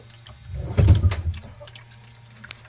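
Water pumped from a sailboat's freshwater tank gurgles and splashes in a short close burst, then settles into faint trickling and drips over a low steady hum.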